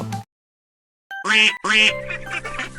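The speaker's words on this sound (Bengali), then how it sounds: "হাঁস ছানাগুলো দুলে দুলে মায়ের পেছনে চলছিল আর খুশিতে ক্যাঁক ক্যাঁক করছিল" Two short, bright quacking calls in quick succession after a pause, followed by a sustained tonal sound; loud and close, with no talking.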